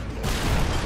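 A brief, loud burst of gunfire booms close and full, filling under a second of video-game combat in Call of Duty: Modern Warfare 2.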